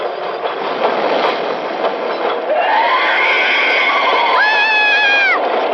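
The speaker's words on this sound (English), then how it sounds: "The train's almost here." A train rushes in on the rails in a Halloween radio drama, a loud, continuous roar that builds, then rising squealing, whistle-like tones that hold near the end.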